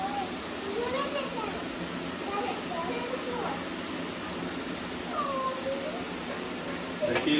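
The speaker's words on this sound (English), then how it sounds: "The kitty come out." A cat meows a few times, faint and rising, amid outdoor background noise and people talking nearby.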